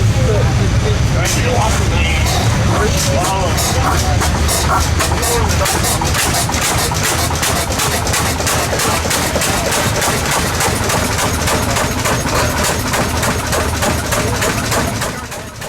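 A 1916 International Harvester Mogul 8-16 tractor engine runs loud and close at a threshing show, firing in a rapid, rough, steady chug for about fifteen seconds before easing at the end.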